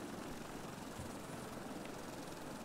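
A helicopter in a video game drones steadily at low volume, a constant whirring rotor noise with no breaks or changes across the short stretch.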